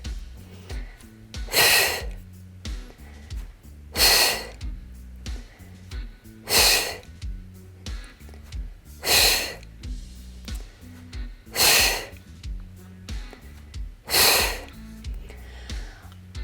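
Deep, forceful breaths push out during an abdominal exercise, about every two and a half seconds, six times in a row, close and loud, with quieter breathing in between.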